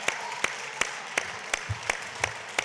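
One or two people clapping at a steady rhythm in a city council chamber, sharp individual claps evenly spaced over a quiet room.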